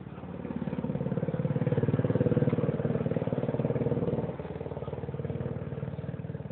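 A motorcycle engine idles steadily close by during yard cleanup, a low pulsing putter with a faint rattle that holds for about six seconds and drops slightly in level partway through.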